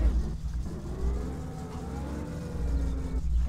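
A car engine runs in the video game My Summer Car with a low, steady rumble and a rising, whirring tone as it revs slightly. The sound stays moderately loud and continuous.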